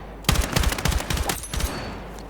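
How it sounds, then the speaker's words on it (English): Short controlled bursts of automatic rifle fire in Battlefield 6, a run of sharp, closely spaced shots in quick groups, loud and near with no talk over them. "let's go for the tap firing here"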